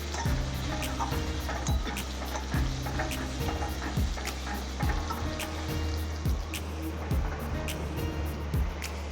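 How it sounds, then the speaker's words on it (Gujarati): Chopped onions sautéing over low heat in a pan for masala dosa filling, a steady soft sizzle with repeated scraping stir strokes at a regular rhythm, close up with no talking. "ડુંગળી મિક્સ કરી ડુંગળીને આપણે ધીમે તાપે થોડીક સાંતળવા દઈએ"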